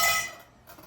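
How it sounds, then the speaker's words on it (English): A cast iron pan holding a tostada Mexican pizza is set into an oven, giving a brief metallic clank and ring that fades within a second, with no talk. "Now it goes right in the oven."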